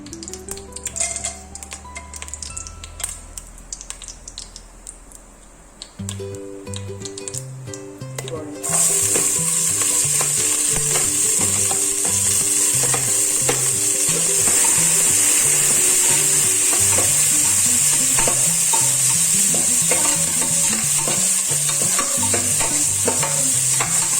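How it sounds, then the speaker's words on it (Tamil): Whole cardamom, cloves, cinnamon and star anise tempering in hot oil for mutton kurma, a quiet stretch with faint clatter giving way to a loud, steady sizzle, with a repeating rhythmic tonal pattern running underneath. "இதை மட்டும் எடுத்து இப்போ நம்ம தாளிச்சுக்கணும்"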